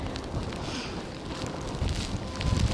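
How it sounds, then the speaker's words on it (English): Strong wind roars steadily across the microphone on a boardwalk during a major snowstorm in the Greater New York City area, a dense broadband rush that swells slightly toward the end, with no talk. "it's very windy, so it's actually like hitting us in the face"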